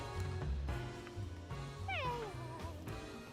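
A Purrloin Pokémon in Detective Pikachu Returns gives a single drawn-out cat meow with a falling pitch over soft background music.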